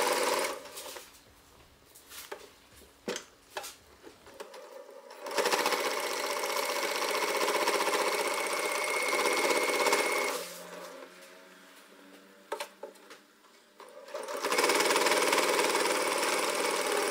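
A sewing machine stitches a seam on a puffer jacket near the edge of a button placket, with a scattered start of short stitches, then two long steady runs of loud, close machine whirring.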